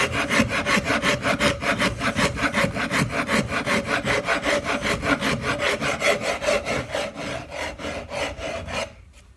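Wooden neck of a Vega Tubaphone tenor banjo being hand-shaped with rasps and files, a close, rhythmic back-and-forth scraping of about three strokes per second that slows and stops near the end.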